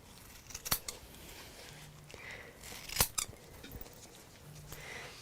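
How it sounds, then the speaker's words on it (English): Scissors snipping through fabric lining at a textile craft table, giving a few sharp, quiet cuts spaced out across the moment, with soft handling rustle between them. "So it's up to you if you want to then cut your lining at the same time."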